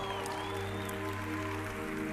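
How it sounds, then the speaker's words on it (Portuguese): Audience applause at a Christian conference, a steady wash of clapping that holds an even level across the whole moment, blended with sustained organ-like music tones beneath it. "Forte aplauso."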